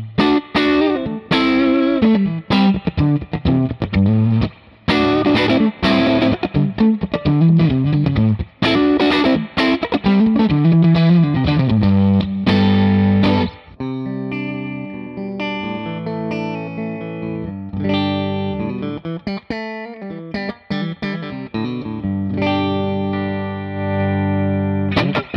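An electric guitar played through a PR12 tube amp modeled on the Princeton Reverb, distorted chords and sustained notes ringing out with a touch of chorus and reverb, with no voices.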